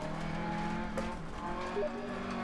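A rally car in Dirt Rally roars under steady engine drone, the revs shifting and dipping as it works through turns, with a brief tyre chirp near the end.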